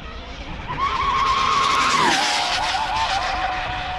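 A dual-motor RC car on ONYX batteries accelerates and skids, its electric motor whine rising and holding, then dropping as the tires scrub; loud and close, lasting about four seconds with no talking.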